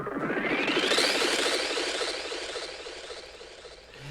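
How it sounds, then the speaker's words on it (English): A chopped sample run through a delay effect makes a zappy, glitchy burst of rapid stuttering clicks sweeping upward, smeared by echoes that fade over a few seconds. "Some type of effect or zappy, glitchy type of sound."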